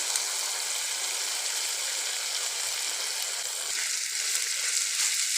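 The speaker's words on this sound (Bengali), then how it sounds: "খুব ভালো করে পাস্তাটাকে ফ্রাই করে নেব আমি" Boiled pasta being fried in a pan, giving an even, close sizzle with a fine crackling texture that softens slightly near the end, with no voices.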